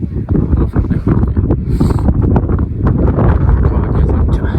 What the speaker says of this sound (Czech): Ale vítr jako hodně velký.